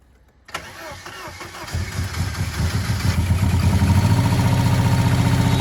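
A Ford Sierra Cosworth engine cranks and catches, then runs roughly with an uneven, stumbling beat from a missing cylinder, growing louder and steadier over several seconds, close by.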